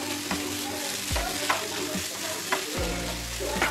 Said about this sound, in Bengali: এইভাবে আমরা মশলাটাকে একটু ড্রাই করে নেব।